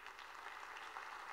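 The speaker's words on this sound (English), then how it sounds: "a huge round of applause to welcome them" An audience at the OGP Global Summit in Tbilisi, Georgia applauds to welcome national representatives, a faint, distant wash of steady clapping over a very short span.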